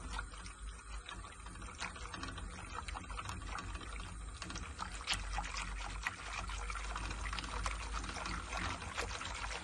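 A milk, starch and butter pudding mixture is stirred steadily in a pot, making a continuous soft liquid swishing with light scraping and clicking throughout, close and moderately loud, with no talking.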